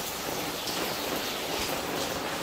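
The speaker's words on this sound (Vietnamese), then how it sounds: "Chuẩn bị đi đá banh thì trời mưa to." Heavy rain pouring steadily in an outdoor setting, a dense, even hiss of drops on surfaces filling the whole stretch without pause.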